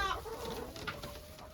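Chickens in a farm coop in January, with a few soft clucks and short calls, fairly faint against low background noise and no voices.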